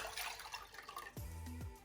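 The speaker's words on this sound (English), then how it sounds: "First put 250 grams of water." Water, 250 grams of it, is poured into a pot for a vegan horseradish condiment, giving a short splashing gush that rises in pitch as the pot fills.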